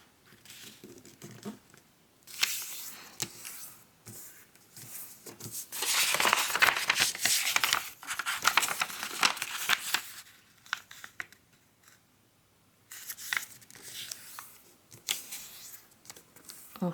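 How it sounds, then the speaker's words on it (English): A square sheet of paper is being folded in half both ways for an origami face mask. Close crinkles, creases and rustling come in bursts with short quiet gaps, loudest through the middle stretch. "we're going to fold it in half both directions, vertically and horizontally"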